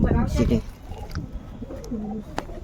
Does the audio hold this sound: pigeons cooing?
yes